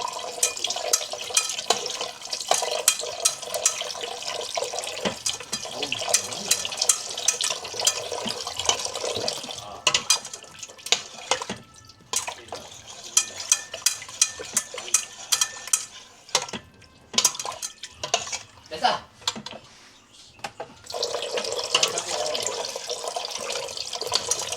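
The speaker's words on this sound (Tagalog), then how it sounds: "lagyan ko muna siya ng tubig" Water runs into a cooking pot with soybean paste for a pork dish, a continuous splashing pour with clinks and stirring noises, fairly close, broken by brief pauses and resuming at the end.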